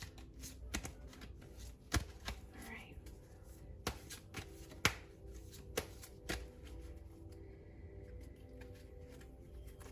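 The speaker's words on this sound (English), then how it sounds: "let's pick some more oracle cards" Soul's Journey oracle cards shuffled by hand, soft irregular riffling and clicking taps with several sharper snaps, close and quiet, with faint low speech mixed in.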